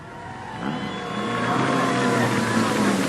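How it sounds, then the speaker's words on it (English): Junior sedan race car doing reverse donuts at a speedway, its engine droning and revving in a sustained rising whine, fairly loud and close, with a voice faintly underneath. "Are we going to see some reverse donuts? We certainly are."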